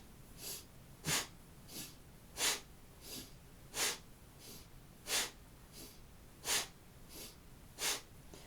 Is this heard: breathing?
yes